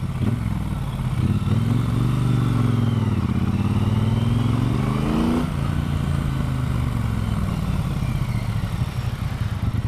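Close engine roar from a Triumph Bonneville Bobber being ridden, its pitch climbing through the gears as it accelerates, then easing back into a steady throaty rumble with wind noise throughout.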